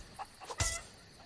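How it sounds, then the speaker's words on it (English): A chicken in the Sea of Thieves video game giving a few quick, faint clucks, with one slightly louder burst in the middle, heard alone at low volume. "I just shot a chicken"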